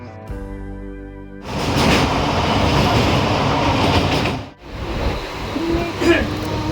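A passenger train moves along during a journey, heard from on board. A steady rumbling roar with rhythmic clatter starts after a quieter opening, dips briefly, then continues with faint squeals, close and loud.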